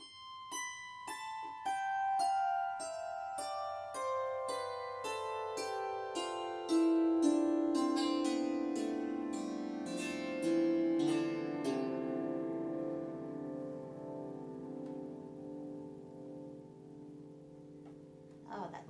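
Hognose psaltery with 22 strings and a spruce soundboard, plucked one note after another in a descending diatonic run, each tone ringing on with long, shimmering sustain that overlaps and slowly fades, quiet and close.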